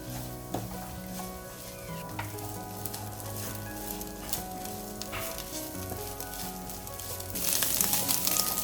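Banana flower curry sizzles steadily in oil as coconut is stirred in, with close stirring scrapes over a continuous frying hiss that grows louder near the end.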